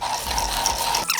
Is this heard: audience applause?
no